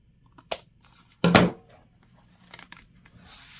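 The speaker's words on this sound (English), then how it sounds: "we'll take an old pair of scissors and just cut this off." Old pair of scissors cutting through card, two short crisp snips close by, the second louder and longer, with faint small handling noises afterward and no talk.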